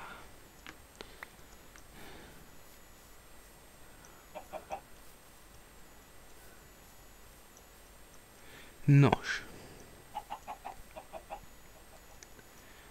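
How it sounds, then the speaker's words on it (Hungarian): Blocky Minecraft chickens in a rainforest give short, scattered clucks against a quiet game background, with a louder burst near the end as someone talks over the scene. "ebben az esőerdőben többnyire tyúkok élnek. Tojásrakó tyúkok."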